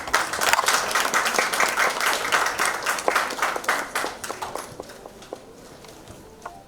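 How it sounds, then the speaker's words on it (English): An audience applauds at a real estate industry podium event as a guest is welcomed with a bouquet. The clapping is dense and lively at first, then thins to scattered claps. "Round of applause, please."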